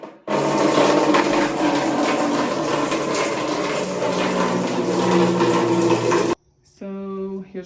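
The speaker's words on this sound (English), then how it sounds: "go fill this with water" Water gushing from a tap into a container in a village home, a loud, steady rushing pour that cuts off abruptly near the end, followed by a brief quieter tonal sound.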